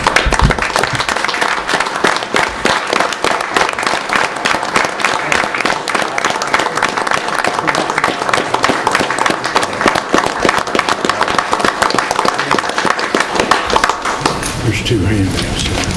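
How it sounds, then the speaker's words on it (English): An audience at a meeting stands and applauds to approve a resolution, a dense, loud burst of clapping from many hands that carries on steadily and begins to thin out near the end. "signify by standing and applauding"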